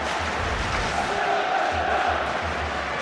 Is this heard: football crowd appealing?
yes